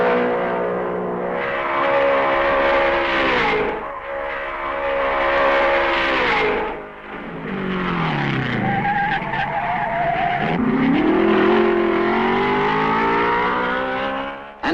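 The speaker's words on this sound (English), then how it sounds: "the Mercedes pair press on to victory." Mercedes race cars at the 1955 Belgian Grand Prix scream by with loud, rising and falling engine howls, passing close in waves with brief dips between them.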